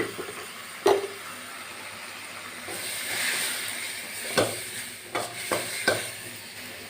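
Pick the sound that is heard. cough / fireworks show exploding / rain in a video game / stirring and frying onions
stirring and frying onions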